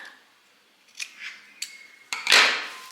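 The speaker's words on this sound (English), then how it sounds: "I'm just going to cut off the little corner here." Scissors snip off a small corner of dress fabric: a few quiet, separate clicks, then a sharper, louder final cut close by.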